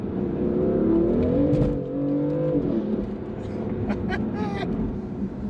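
BMW M4 engine revving and pulling as the car drives, a loud, steady drone with rising and falling pitch across the run, close and continuous with no talk over it.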